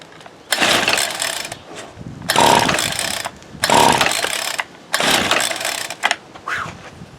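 A Ryobi SS30 string trimmer with its choke fully open runs in loud, close bursts of raspy small two-stroke engine noise, surging and dropping several times as it struggles to hold an idle.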